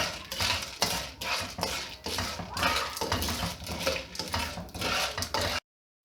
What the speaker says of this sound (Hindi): इसको बस ऐसे भूनते रहना है जब तक इसके दाने खिलने शुरू ना हो।